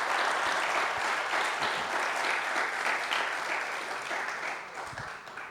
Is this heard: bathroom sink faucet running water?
no